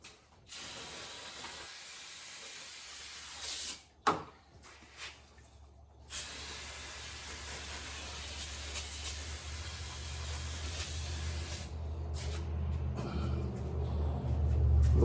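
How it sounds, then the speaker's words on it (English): Carb cleaner is sprayed onto a car's engine area during a radiator replacement, heard as several short, sharp hissing spurts separated by pauses, followed by a quieter background hiss that slowly swells. "Little carb cleaner."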